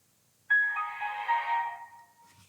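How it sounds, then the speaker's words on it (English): The Windows XP shutdown chime plays from a computer speaker with a microphone pressed against it: a short, soft, bright melodic phrase that rises in and fades over about a second and a half, with no talk. "You just heard this shutdown sound."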